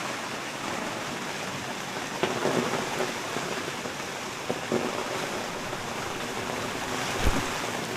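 Steady rain patters on a tarp shelter in a dense continuous hiss, with a few faint louder drips or taps, and no voices.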